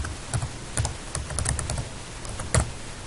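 Typing on a computer keyboard, a close, fairly quiet run of irregular clicks and taps with short pauses between keystrokes and one sharper stroke near the end.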